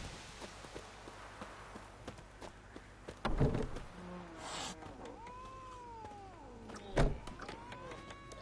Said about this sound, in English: That cat doesn't like me.